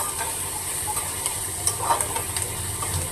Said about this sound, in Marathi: तर कांदा ना छान असा लालसर मोठ्या फ्लेमवर शिजून घे